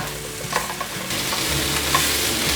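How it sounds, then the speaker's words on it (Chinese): Potatoes and tofu are stir-fried in a wok with soy sauce, curry powder, salt and white pepper, producing a steady close sizzle under continuous scraping and tossing of the spatula, with no talk. "快速的翻炒。"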